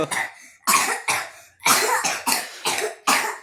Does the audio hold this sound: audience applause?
no